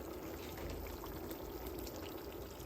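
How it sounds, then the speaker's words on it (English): Salted hot water pours steadily into a cooking pot of marinated chicken for a Caribbean curry, a continuous broadband splash and trickle at moderate level with no talk. "I went ahead and added some hot water and some salt as well."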